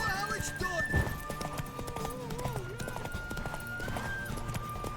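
Hooves pounding in a steady gallop from a horse in The Witcher 3 game, layered with music and talking voices throughout.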